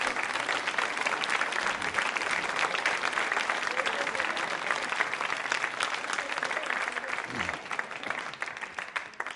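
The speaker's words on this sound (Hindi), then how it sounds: "तो तालियां जोरों से बजाइए इन सारी बातों के लिए।" Dense, continuous applause from a school audience at a quiz show, even and sustained throughout at moderate loudness.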